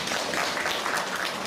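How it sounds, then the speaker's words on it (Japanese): Audience applause at a live show at Tokyo DisneySea, a dense, steady wash of many hands clapping at moderate level throughout, with no talk over it. "みんな拍手送ってくれ。"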